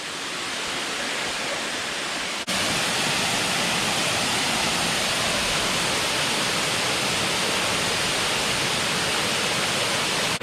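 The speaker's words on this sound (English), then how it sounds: "It literally is just one waterfall after another" A waterfall on the Ricketts Glen Falls Trail roars in a dense, unbroken rush, loud and close, swelling slightly louder after the first couple of seconds and holding steady.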